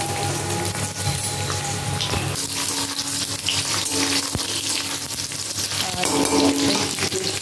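Panch phoron and dry red chillies crackle and sizzle in hot oil, a dense, steady, close frying hiss with scattered pops and light clatter.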